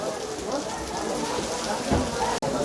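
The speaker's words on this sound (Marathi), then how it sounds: "आत्ता बाहेर जोरात पाऊस चालू आहे" Heavy rain pours steadily outside a hotel room in Gaurikund, in a dense, hissing wash, with faint room noise mixed in and a brief dropout near the end.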